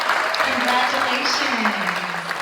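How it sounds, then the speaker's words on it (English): An audience at a school governing board meeting applauds a student award winner, a dense burst of clapping throughout, with a voice speaking over it. "Nice round of applause."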